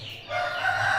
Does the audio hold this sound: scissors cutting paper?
no